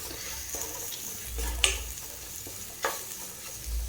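Onion and ginger garlic paste sauté in hot oil for a Chettinadu chicken curry, sizzling steadily while a spoon stirs and scrapes the pan, with a couple of sharper clinks.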